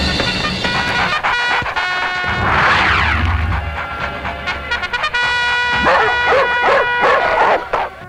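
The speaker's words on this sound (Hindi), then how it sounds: "कुत्ते क्यों भौंक रहे हैं" Several dogs bark and yip in loud, close, overlapping bursts, with a whimpering whine partway through.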